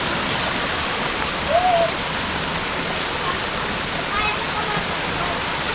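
Amatong Waterfalls in Sitio Piit, Batangas City, with a clear river flowing below, makes a steady, even broadband rush of falling water that holds constant throughout with no pauses.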